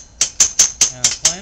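A hand winch cranked to tension a nylon sling girth hitched to a cable gives six evenly spaced sharp ratcheting clicks, about one every fifth of a second, close and fairly loud with no talk.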